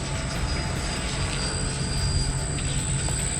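E-flite F-16 RC jet with an electric ducted fan flying a minimum-radius turn, a loud steady whine and rush of air holding constant with a high thin tone on top.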